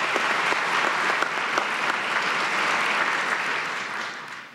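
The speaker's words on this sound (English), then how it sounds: "Give them a round of applause if they're not here." An audience at a police department promotional ceremony applauds steadily, a dense wash of clapping holding at even loudness for several seconds before tapering off at the close.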